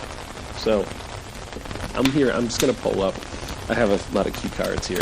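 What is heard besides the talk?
rain noises in the background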